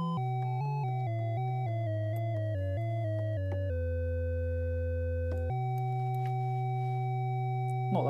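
Two steady sine tones mixed on an analog synthesizer blend together, stepping through short pitch changes before settling into sustained held notes.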